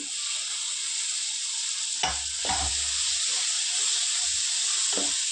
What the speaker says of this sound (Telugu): ఇప్పుడు ఒక మూడు టమాటాలు వేసుకుంటున్నానండి